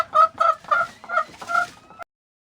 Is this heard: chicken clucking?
yes